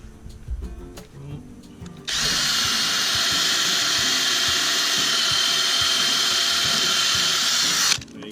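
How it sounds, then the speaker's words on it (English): A power drill bores through a garden cane, whining loudly and steadily for about six seconds after some faint handling noises, then stopping abruptly. "and just drill that out."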